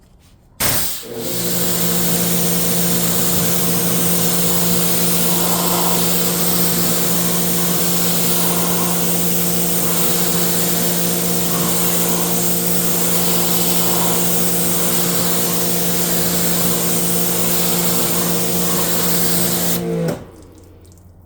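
A steady, loud rush of pressurized water from a pressure washer rinsing spray-on ceramic sealant off a car for about twenty seconds, with a constant motor hum underneath, starting and stopping abruptly.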